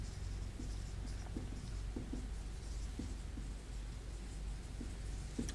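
Marker or chalk scratching steadily across a board during a chemistry lesson, a continuous faint scraping with small tapping strokes, fairly close and with no talking.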